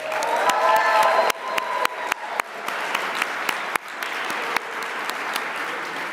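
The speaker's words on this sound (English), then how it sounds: "let's all give them a quick round of applause" A room of attendees at a civic leadership academy welcome ceremony gives a brisk round of applause, steady clapping with some cheers and whoops that thins out into scattered claps.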